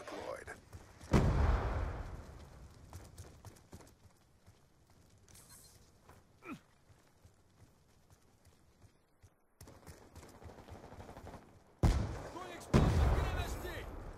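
Gunfire in a multiplayer video game, with sharp loud bursts near the start and again near the end, separated by a long, quieter stretch of scattered small sounds while players talk.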